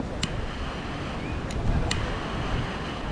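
Wind rushes and rumbles against the microphone in a steady, blustery roar, with a few faint high clicks along the way.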